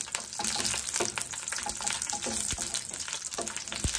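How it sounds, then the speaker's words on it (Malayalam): Dried red chillies roast in hot coconut oil in a pan, making a constant close, gushy sizzle with scattered crackles and pops. "അതിലേക്ക് നമുക്ക് ആദ്യം ഈ വറ്റൽമുളക് ഒന്ന് ഇട്ടൊന്ന് റോസ്റ്റ് ചെയ്തിട്ടെടുക്കാം"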